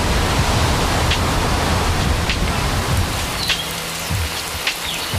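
Heavy tropical rain falls in Panama, a dense, continuous hiss of drops on surfaces that stays steady throughout, with a few brief sharper spatters and no talking.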